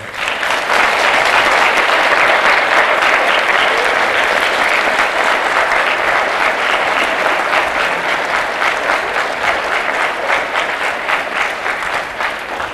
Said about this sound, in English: give them a thunderous round of applause to thank them